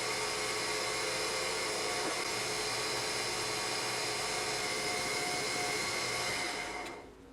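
A metal lathe facing off and chamfering a steel driveshaft coupling part for a homemade dyno gives a loud continuous whir and hiss that holds steady, then winds down at the end.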